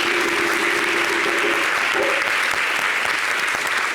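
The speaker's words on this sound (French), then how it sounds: "Je voudrais qu'on l'applaudisse bien fort" An audience at a public event bursts into loud, sustained applause. It is thick and continuous, with a faint tone or voice underneath early on.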